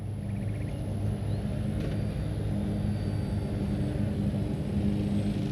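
An FMS Ranger RC trainer airplane flies overhead, its electric motor giving a steady, droning buzz with a low rumble, constant in level throughout and with no voices.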